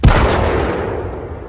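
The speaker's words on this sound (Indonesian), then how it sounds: "ada suara tembakan yang begitu dekat" A single loud, close gunshot bursts out, followed by a long rumbling echo that slowly fades.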